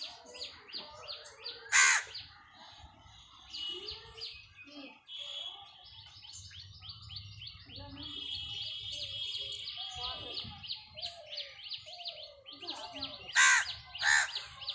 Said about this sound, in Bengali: তার মধ্যে কাকের শব্দ পাচ্ছ